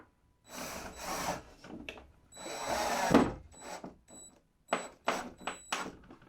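A security camera mount being fastened to a wall: a string of short, uneven scraping and grinding bursts of tool work, close and fairly quiet, with brief pauses between them.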